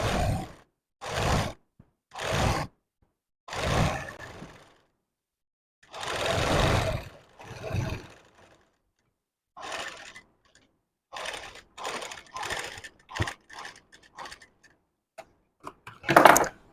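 A sewing machine stitches around a blouse neckline in short bursts of rapid whirring, separated by pauses, then quicker clustered runs of stitching, close and loud with no talk.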